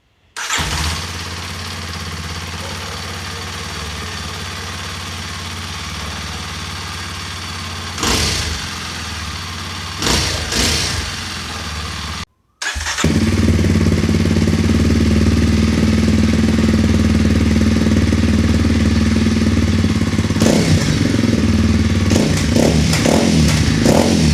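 A Kawasaki KLX 230 dirt bike fitted with a Norifumi aftermarket exhaust starts and idles loudly up close, with a few sharp throttle blips, a brief cutout, then a steady, louder rumbling idle broken by more revs near the end.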